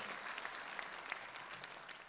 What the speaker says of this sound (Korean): 우리 장로님들한테 박수 한번 쳐드리세요